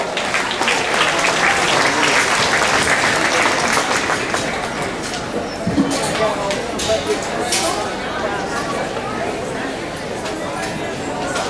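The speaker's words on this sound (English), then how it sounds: "Please give those young people a good round of applause." An audience at a county fair junior market hog show claps steadily in a sustained round of applause, with crowd chatter mixed in.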